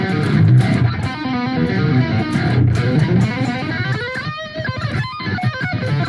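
Electric guitar played loosely with distortion, a low string left ringing beneath busy chords and single notes, loud and continuous with no talking.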